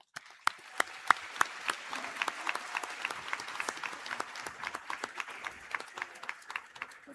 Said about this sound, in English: Let's give them a warm round of applause to get them started.